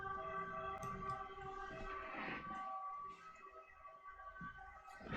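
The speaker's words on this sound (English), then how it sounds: "Where's the ambulance stopping?" A faint, distant ambulance siren sounds as a steady, tonal wail, growing slightly quieter partway through, with no speech over it.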